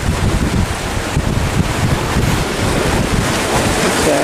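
Sea waves churn at the La Gi harbour mouth, a steady loud wash of surf mixed with wind buffeting the microphone and the low rumble of fishing trawlers heading out, continuous and close with no voices.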